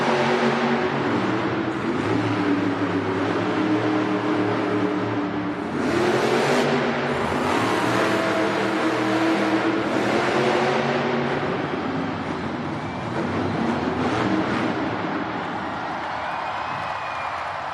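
Monster trucks racing in a Monster Jam JCB Racing competition, engines roaring loud and continuous with revving surges, crowd noise underneath in a large arena.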